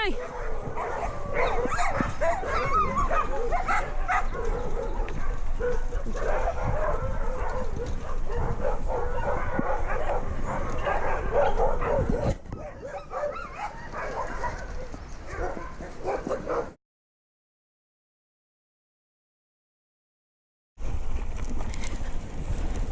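Loose dogs bark and yip repeatedly while people talk over them at a wedding; the sound cuts out completely for a few seconds before resuming.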